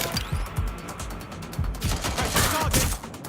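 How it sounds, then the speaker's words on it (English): Gunfire in a Watch Dogs: Legion shootout, with rapid uneven volleys of sharp shots and bursts cracking close by, some layered over a mechanical clatter, with no pause across the few seconds. "Shots fired."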